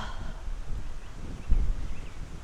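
Wind gusting past the microphone on an off-road gravel ride along a country lane, a steady broadband rush with a stronger low buffet midway, no voices.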